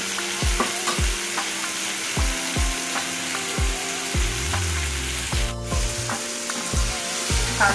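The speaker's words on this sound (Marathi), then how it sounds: "टमाटा देखील आपल्या शिजत आहे" Chopped tomatoes and onions cook in a pan for an okra curry, a steady sizzle broken by regular spatula knocks and scrapes against the pan, close and loud with no voices.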